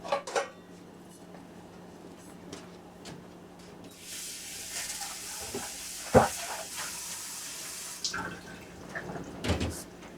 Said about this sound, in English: You put like a soup bowl water in it, filter water, yeah, and we boil it.